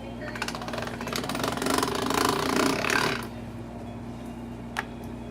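Pasta dough cranked through a hand pasta machine, a steady mechanical rattling and grinding for about three seconds that stops abruptly, leaving a low background hum and one small click.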